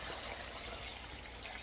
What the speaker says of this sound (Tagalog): Lagay po tayo ng tubig.